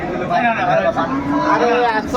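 Cows low amid a noisy crowd, several drawn-out moos close by over background chatter and voices of a busy cattle market in Aftabganj where dairy cows and calves are sold.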